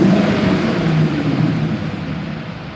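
A Corvette engine revs on a dyno, a close, loud rumbling drone that swells and then slowly eases off over a few seconds.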